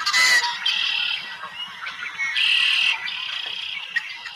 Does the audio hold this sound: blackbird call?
yes